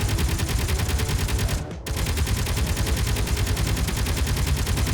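Sustained rapid gunfire from weapons in the Space Engineers video game, a dense continuous rattle that briefly dips for a moment before resuming, loud and steady with no talking.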